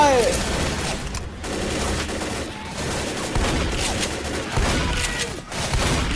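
A mounted turret gun firing in Left 4 Dead's Blood Harvest campaign, a loud continuous stream of heavy shots with brief gaps, under excited talking from a player.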